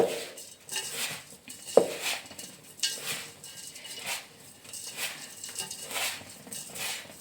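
Maddur vada dough is mixed by hand in a bowl, making rhythmic soft squelching and patting sounds with faint clinks of the bowl and one sharper knock early on, with no one speaking.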